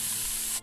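Pepper spray hisses in a single loud, short burst of harsh spray noise that cuts off abruptly, from South Park: The Stick of Truth.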